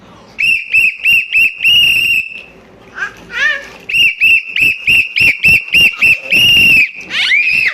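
Someone blows a whistle loudly in repeated short shrill blasts near a child, with a brief break where someone speaks before the blasts resume.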